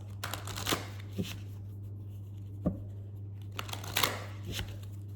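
Tarot romance angel cards shuffled by hand: a series of soft, papery riffles and brushes in irregular bursts, close by, over a steady low electrical hum.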